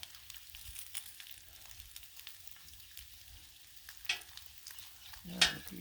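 Bacon fries on a Blackstone griddle with a steady low sizzle throughout, broken by a couple of brief scraping clatters near the end.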